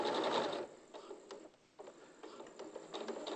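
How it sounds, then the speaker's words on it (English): Domestic sewing machine running a long basting stitch of length 5 down a centre line, a steady mechanical whirr that pauses briefly mid-way and resumes, close and fairly quiet. "now you go off to the sewing machine"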